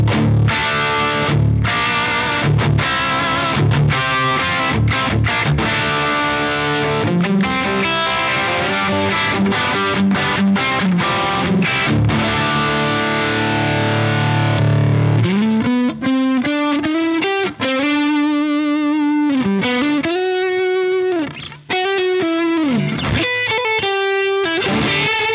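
Electric guitar through a Plexi amp model with no overdrive pedal, lightly crunchy chords and single-note runs with chorus-like shimmer, played close and steady, later shifting to sustained, bending lead lines.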